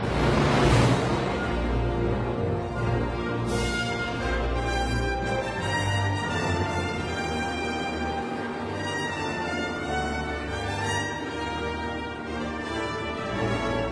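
Sweeping orchestral film score from Jurassic Park III's plane arrival scene, a reuse of the first film's helicopter arrival theme, with full sustained strings and brass swelling loudly and steadily throughout, no voices.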